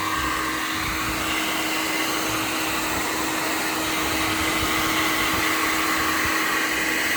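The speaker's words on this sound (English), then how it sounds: "And drying is pretty easy, just with a hair dryer." A hair dryer on a low warm setting, drying parts of an antique E. Ingraham clock under restoration, blows steadily, a constant close whooshing hum with a faint tonal whine, no voices.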